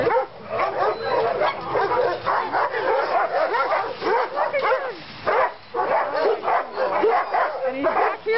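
Several dogs bark and yip close by in a busy, continuous clamor, with a person talking through the noise.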